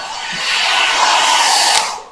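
A hair dryer drawing around 1,370 watts, running as a steady close airy whoosh that swells and then cuts off after about two seconds.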